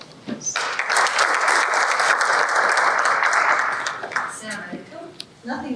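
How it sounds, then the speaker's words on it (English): At a leadership awards ceremony in Oman, a crowd bursts into loud, sustained applause that swells quickly, holds for several seconds and then fades, with a voice speaking briefly before it and after it ends. "Please give them a very big round of applause."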